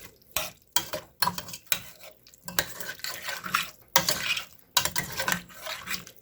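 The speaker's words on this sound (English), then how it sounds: "Give that a nice stir." A stir-fry coated in honey sauce is stirred in a pan with a utensil, giving repeated close scraping and clattering strokes in an uneven rhythm over a light sizzle.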